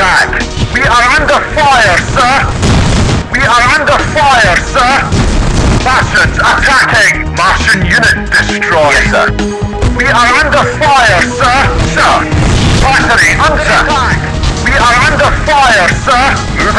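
Dense artillery fire and explosions in the Jeff Wayne's War of the Worlds strategy video game, continuous loud booms and blasts layered under repeated in-game voice alerts.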